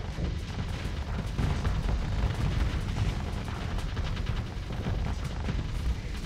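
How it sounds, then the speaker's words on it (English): Bombers making bombing runs on enemy ships in the space game Starsector, a continuous rumbling barrage of overlapping explosions and weapon impacts, dense and heavy in the low end, with no pauses. "Keep bombing, men."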